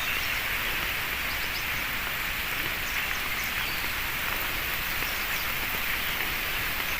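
Light drizzling rain falls steadily outdoors in a village, a soft, even hiss with faint patter throughout and no voices.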